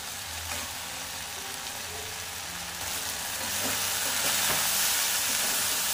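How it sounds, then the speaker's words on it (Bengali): Okra fries with spices and gram flour in a pan, giving a steady, close hiss and sizzle with faint stirring clicks. The sound builds slightly louder toward the end, with no talk. "বাড়িয়ে আমি 1 মিনিট ধরে মশলার সাথে ঢ্যাঁড়সগুলো ভেজে নেব।"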